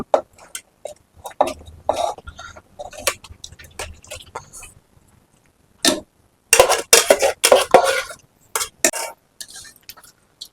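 Fried onions and rice are added to a pot for egg biryani, with a series of sharp metallic clinks and scrapes of a utensil against the pot in irregular bursts, close and fairly loud.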